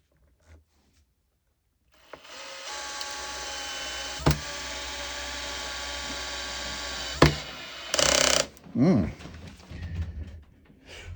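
A Metabo 12V drill driver set to clutch setting 10 whirs steadily for several seconds, with a couple of sharp clicks as the clutch slips, followed by brief louder bursts near the end.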